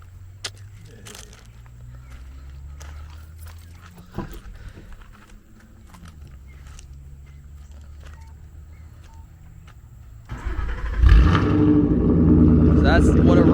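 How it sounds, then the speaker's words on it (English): Ford Mustang GT with an X-pipe exhaust cranks and fires up abruptly after a stretch of quiet talking, then settles into a loud, deep, steady idle with a rough burbling edge close by. "That's what a real Mustang should obviously sound like."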